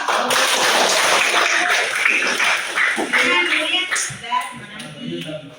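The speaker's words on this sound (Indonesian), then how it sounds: "Tepuk tangan dong." Students in a classroom clap their hands together, a dense burst of claps mixed with overlapping voices that gradually thins out over several seconds.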